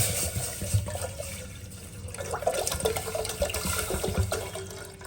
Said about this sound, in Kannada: ಫಸ್ಟು ಒಂದು ಪಾತ್ರೆನ ಇಟ್ಟು ಅದಕ್ಕೆ ಸ್ವಲ್ಪ ನೀರು ಹಾಕಿ